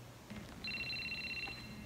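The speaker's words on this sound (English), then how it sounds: "Phone's ringing, dude." A telephone rings in a movie, one short electronic trill that is steady and fairly clear against a quiet background hum.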